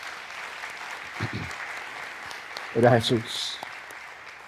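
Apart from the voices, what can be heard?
church congregation applause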